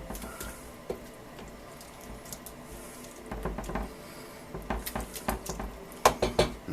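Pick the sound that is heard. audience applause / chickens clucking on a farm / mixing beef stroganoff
mixing beef stroganoff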